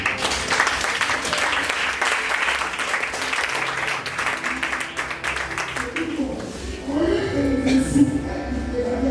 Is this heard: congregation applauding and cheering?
yes